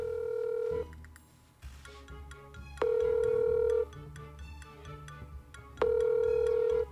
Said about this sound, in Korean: 여주 형 전화 한통 때리겠습니다